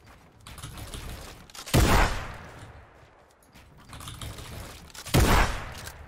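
Gunfire shooting at a block in Fortnite comes as two sharp bursts of shots over a steady background of rapid clicking, like keyboard and mouse input.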